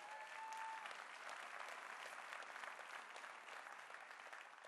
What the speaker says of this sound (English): Let's give a round of applause for SeaWorld